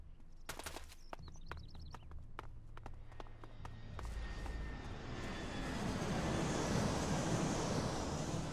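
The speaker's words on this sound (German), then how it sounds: "Interessant, ob man diese Flugzeuggeräusche hört, ohne die Flugzeuge tatsächlich zu sehen." Aircraft engine drone in the role-playing game Elex, swelling from a faint distant hum into a loud, broad roar that fills the second half, heard after a few light footsteps and clicks, with no speech.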